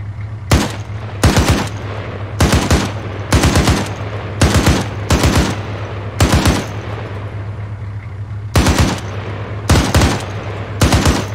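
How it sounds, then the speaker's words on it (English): Rifle firing off a 30-round magazine in the military video game ArmA 3, heard as ten separate loud bursts of several sharp shots each, spread steadily over the span with a constant low hum underneath. "I have 30 bullets on right now, so I'm just gonna fire them off"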